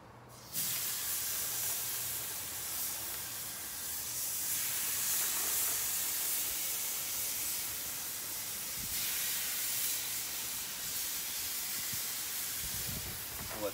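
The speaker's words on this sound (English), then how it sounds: "Love to hear that sizzle." Sausage and chicken sizzle on a barbecue grill during a carne asada and pollo verde cook, a steady loud hissing crackle that continues for over ten seconds with no talk.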